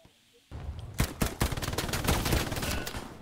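Gunfire in the World War II shooter game Hell Let Loose: after a short quiet moment, a rapid string of loud, sharp shots breaks out, close and dense, overlapping into sustained automatic fire.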